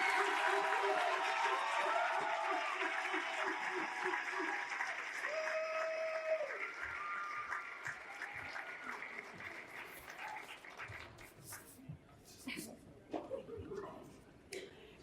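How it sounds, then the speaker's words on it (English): Sustained audience applause with some cheering at the YMCA Black Achievers Celebration banquet, dense and steady at first, then thinning into scattered claps and a few voices toward the end. "let's give a round of applause for Kennedy Walker"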